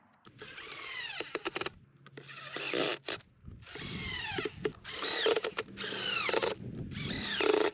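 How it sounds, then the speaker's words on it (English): A power drill drives screws joining plastic septic tank riser pieces, several loud whirring bursts that rise and fall in pitch, separated by short pauses, close and clear. "Now we're ready to screw these two pieces together."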